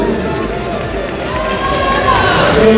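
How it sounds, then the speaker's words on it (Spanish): Audience applause for a heavyweight senior bodybuilding athlete at the Miss & Mister Peru 2023 contest: dense, steady clapping and crowd noise that swells slightly toward the end, mixed with an announcer's voice. "Fuerte el aplauso para él."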